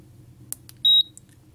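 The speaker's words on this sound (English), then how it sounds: "There is a beep, and even the score increases when a snake eats the food." A few short electronic beeps from an ATmega32 microcontroller snake game, one clear tone among quick bleeps, sharp and close over a faint background hum.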